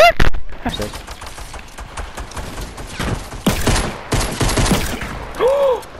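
Rapid bursts of gunfire in a Fortnite match, including pump shotgun blasts, crack loudly and densely across the scene, with a shouting voice cutting in among the shots.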